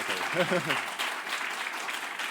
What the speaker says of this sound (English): Can you please applause again? We want to record it.